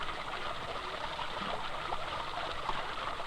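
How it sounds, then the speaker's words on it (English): Water flowing over a wooden water wheel, a continuous even rush and trickle at moderate distance with no other sounds. "Water wheels turned the mechanism of simple machines."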